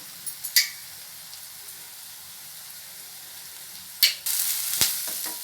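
Ginger garlic paste and curry leaves added to frying onions in a pan for a potato and pea masala, giving a sudden sizzle that swells and then holds as a steady hiss, with a few faint clinks before it.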